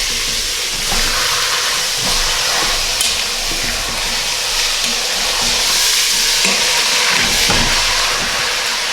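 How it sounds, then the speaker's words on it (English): Chuck pot roast searing in a pressure cooker, a steady loud sizzle and hiss of hot fat with occasional crackles and a brief clatter as the meat is moved, no talking. "We have this pot roast in here for about 10 minutes. Getting seared on the first side."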